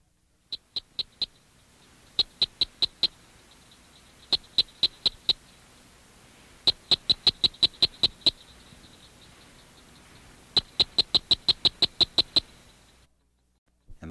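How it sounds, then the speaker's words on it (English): Florida cricket frog calls in quick runs of crisp, high clicking notes, several rapid series separated by short pauses, clear and fairly close against a quiet background. "Florida cricket frog produces this sound."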